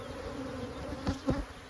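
Honey bees from a yard hive drone steadily during an open inspection, a continuous low hum with two brief louder swells as bees pass close by.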